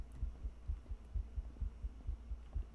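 Steady heartbeat in the video game Romut, a low double-thump pulse repeating at an even pace over a dim hum, with no talk.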